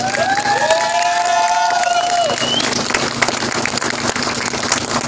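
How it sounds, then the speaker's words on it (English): At a Union flag protest rally in Portadown, a crowd claps and cheers steadily, with a few high shouts and whistles rising over the applause before it settles into continuous clapping. "Give her a good round of applause."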